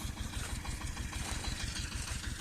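A Shifeng 240 tractor engine chugs steadily while working a field, a low rapid thumping pulse that stays close and even with no voices over it.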